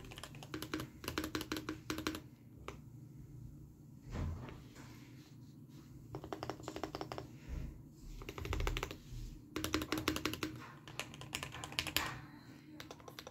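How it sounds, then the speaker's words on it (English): Typing on a modded custom mechanical keyboard during Bedwars gameplay, fast bursts of clacky keystrokes close up with short pauses between runs, no voices. "Now I'm just gonna leave you with some keyboard ASMR gameplay."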